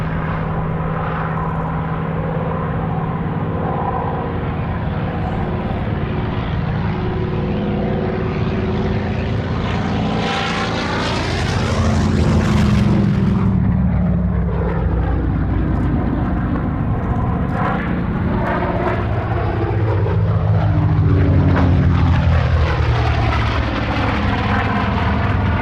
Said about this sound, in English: the massive Douglas Skyraider takes to the air for another unique formation flypast, with the Royal Navy Historic Flight Sea Fury and a Supermarine Seafire.